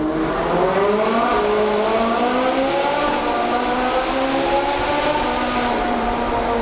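A naturally aspirated sports car engine revs loudly and steadily, its pitch climbing and wavering through the gears, close and continuous without pause.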